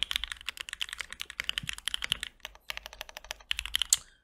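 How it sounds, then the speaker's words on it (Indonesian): Fast, close typing on a clacky mechanical keyboard: dense bursts of crisp keystrokes with a brief pause midway, then more rapid clacks, with no one talking. "Gila ini clacky-nya mantep banget."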